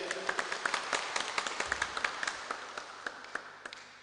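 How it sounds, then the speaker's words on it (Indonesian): An audience at a Christmas alumni gathering gives a brief, faint round of applause for the organizing committee, with scattered individual claps standing out over a low hum of room noise. "Saya minta hadirin di sini untuk tepuk tangan sekali untuk panitia."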